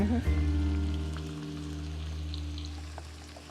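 Vegetables stirred in a hot pot for soup: a steady, gentle sizzle and hiss throughout, with a brief tonal hum at the start and soft clinks as the pot is stirred.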